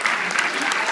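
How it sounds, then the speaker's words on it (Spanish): Sustained applause from a church audience honoring Mexico, a dense, steady wash of clapping filling the full second without pause. "Un aplauso a México."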